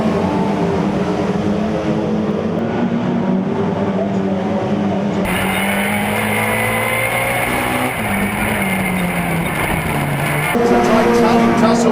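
Race cars run side by side up the home straight of a circuit, their engines droning loudly with shifting pitch as they pass, with a commentator talking over the racing.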